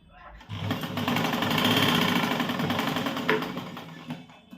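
A sewing machine stitches a blouse, its motor whirring up into a fast, steady rattling hum for a few seconds before slowing and stopping, close and fairly loud.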